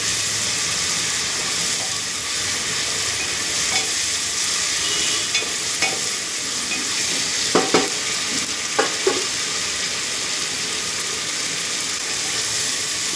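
Garam masala spice paste frying in a pan for biryani, giving a loud, continuous sizzling hiss with a few brief scrapes and taps of a spoon against the pan.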